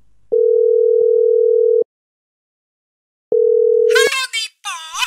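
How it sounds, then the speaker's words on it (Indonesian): Two spells of a steady telephone dial tone, one long and one shorter after a pause of silence, heard while placing a call, with a voice speaking at the end. "Cepat kau telepon dia, Dipo."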